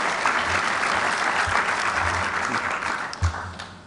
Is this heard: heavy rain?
no